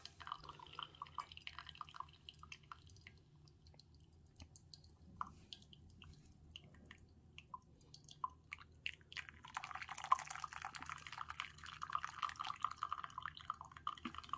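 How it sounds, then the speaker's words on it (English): Soft, irregular drips of coffee trickling through a drip filter and pattering close by over a low steady hum, quiet and with no one talking. "We're going to go ahead and let this drip out"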